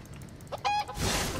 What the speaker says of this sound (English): Go, chicken!